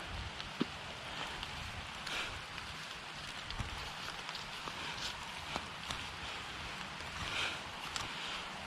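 Rain falls outdoors in the Surat Thani countryside of Thailand, a soft steady patter with scattered drip ticks, faint and distant.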